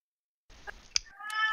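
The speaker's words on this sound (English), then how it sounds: "God damn, cat." Cat meowing indoors in a room, a short close meow that rises after a moment of silence, alone without talk.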